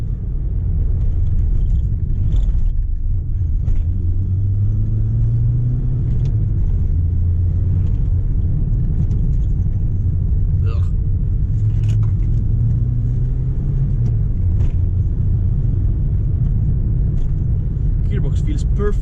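Heard from inside a VW Golf Mk2 youngtimer on a city drive, a low engine drone swells and drops through gear changes over road rumble, with faint clicks and rattles throughout.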